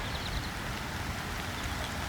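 Light rain beginning to fall outdoors: a soft, even hiss of fine drops that stays steady and fairly faint throughout, with no other distinct sounds.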